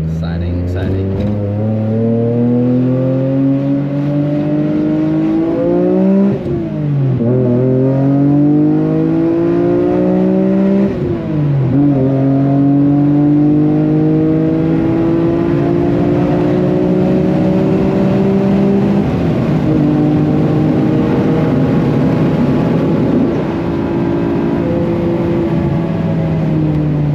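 A car pulls away on a race track, its engine rising and dropping through several gear changes before settling into a loud, steady drone, heard close from inside the cabin.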